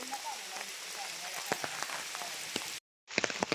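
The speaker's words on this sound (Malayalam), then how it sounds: "ചെറുതായിട്ട് മഴ പെയ്യുന്നുണ്ട്" Soft rain hisses at a dam with occasional drops tapping close by, a faint voice murmuring underneath, then a brief silence before the patter resumes.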